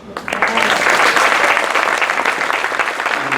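Applause from passengers aboard the Regent Seven Seas Mariner cruise ship for three gentlemen, a loud, close burst of many hands clapping that starts abruptly and holds steady to the end without talk.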